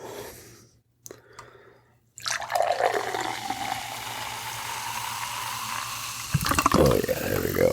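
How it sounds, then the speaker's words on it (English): Beer poured from a freshly cracked can into a glass, a steady watery gush and fizz lasting several seconds after a brief quiet opening, with a louder splash near the end; no talking. "Let's get a nice little pour here."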